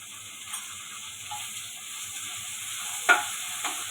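Carrot and chili relish with garlic chutney, turmeric and oil being stirred in a pan, a soft scraping stir over a low steady sizzle, with one sharper clink of the spoon near the end.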